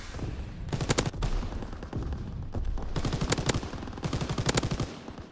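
An old machine gun firing in Call of Duty WW2 while defending beach bunkers from an enemy invasion, loud close bursts of rapid shots in several short volleys separated by brief pauses.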